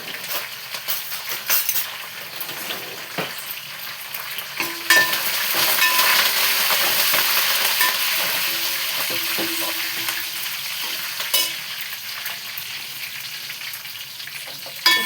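Curry leaves fry in hot oil in a pan, giving a steady crackling sizzle that swells in the middle, with occasional scrapes and clinks of a stirring utensil against the pan.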